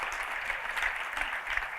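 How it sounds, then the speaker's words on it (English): Audience at a state policy keynote gives a brief, faint round of applause, a soft steady patter of clapping heard from a distance. "She deserves a round of applause."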